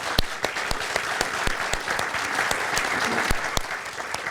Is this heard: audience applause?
yes